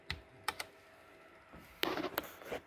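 Computer keyboard keys are pressed in a few scattered clicks, then a quicker flurry of taps, close and fairly quiet with no one talking.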